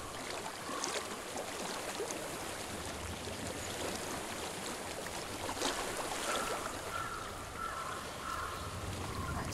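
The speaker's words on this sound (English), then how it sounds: "I hear water." Flowing water in the game Hellblade: Senua's Sacrifice, a steady rushing wash like a nearby stream, continuous and fairly even, with faint splashes and drips over it.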